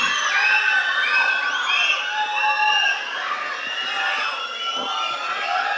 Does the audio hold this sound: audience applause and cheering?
yes